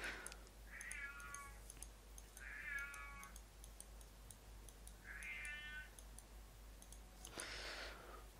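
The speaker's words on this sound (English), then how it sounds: "Cat." A cat meows three times at spaced intervals, each call a short drawn-out cry heard against a quiet background, with light ticking and clicking noises throughout and a brief burst of noise near the end.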